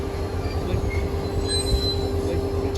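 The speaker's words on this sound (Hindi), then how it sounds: "उस ट्रेन ने विसल दे दिया 146 ने, वो रवाना हो रही है और वो चल पड़ी है" Train 146 pulling out of a station on a Pakistani rail line, a steady loud rumble of rolling wagons with faint wheel squeal and a low hum, voices faintly in the background.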